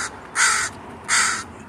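Two loud, harsh caws from a crow at Green Lake, each drawn out about a third of a second with a strained, odd quality, separated by a short pause and heard alone.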